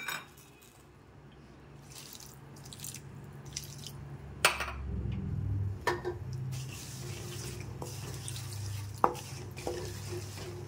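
Water splashes and swirls steadily in a kitchen, with a few sharp clinks of a spoon against a vessel as jaggery is stirred to dissolve in water.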